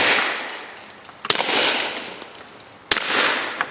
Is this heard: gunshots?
yes